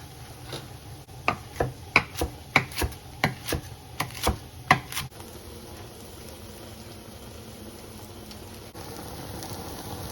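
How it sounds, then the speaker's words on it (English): Leafy greens are chopped with a knife on a cutting board for black bean tacos: about ten crisp, evenly paced strikes, close and clear, followed by a few seconds of quiet room tone. "So I'm just going to chop some of these up and add them to the beans."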